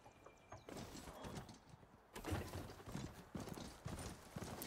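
Horse hooves clip-clopping in the game Horizon Forbidden West, a quiet run of close, irregular hoofbeats that pauses briefly and then resumes more strongly.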